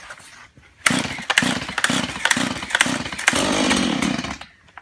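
A Stihl MS 170 chainsaw cold-starts on regular gas with the choke on, opening with a few sharp pull-start bursts that catch into a loud, steady two-stroke buzz up close before cutting off.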